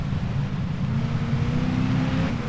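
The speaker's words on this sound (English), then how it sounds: "Just have a big roaring V8." An old Ford Mustang V8 in Forza Horizon 3 roars with a loud, deep, continuous rumble. Its pitch holds fairly steady with a slight rising whine near the end, and no voices are heard.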